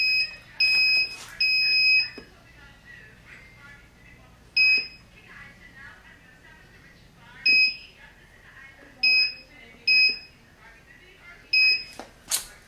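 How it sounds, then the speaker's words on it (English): Loud, sharp electronic beeps from a heat press timer alarm go off in repeated short bursts, some doubled, with gaps between them and faint background noise and occasional talk underneath. "the timer acting crazy because I didn't hit the set button before I closed it"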